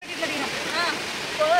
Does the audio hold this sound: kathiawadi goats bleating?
no